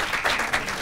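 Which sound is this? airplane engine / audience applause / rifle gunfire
audience applause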